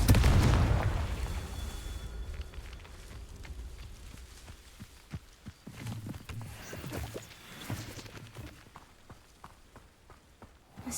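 A Confringo spell explosion in Hogwarts Legacy opens with a loud, booming burst that decays, followed by scattered thuds, footsteps and quieter clattering impacts.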